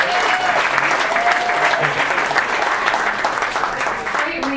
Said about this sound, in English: Now, how about another round of applause?